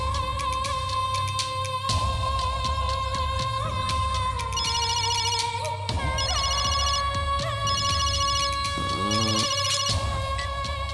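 A phone's ringtone sounds during a call in a Tamil drama, a loud, busy electronic melody with repeating chirps and bright tones running steadily for about eleven seconds.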